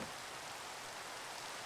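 Steady, faint rain falls in modded Minecraft (Skyfactory 4), a soft continuous hiss with no other sounds.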